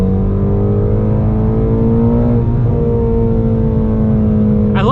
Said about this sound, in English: this has a flat plane crank V8, which sounds so good